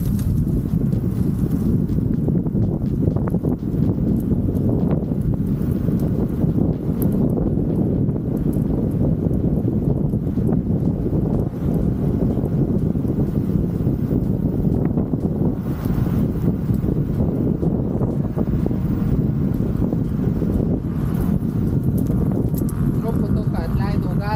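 Riding a Teverun Fighter Mini electric scooter outdoors, with constant loud wind buffeting the microphone and a steady low rumble of travel throughout.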